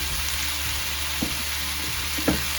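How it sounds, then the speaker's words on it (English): Pumpkin curry frying in a pan with chili and turmeric powder being stirred through: a soft, steady sizzle with two brief scraping stirs near the end, close up and without speech. "And just stir that through."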